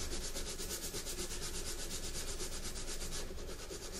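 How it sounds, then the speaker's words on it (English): Steady rhythmic scratching of sandpaper rubbing back and forth on the wood of a Martin D-41 acoustic guitar neck, close and continuous with no talking. "Sand that."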